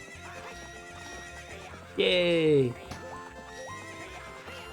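A horse in The Legend of Zelda whinnies loudly over rhythmic clip-clopping hooves and game music, with a player's brief voice alongside.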